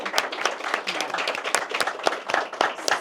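Light, brief applause from a small audience at a talk on Texas and the border, uneven individual claps rising and falling over a few seconds.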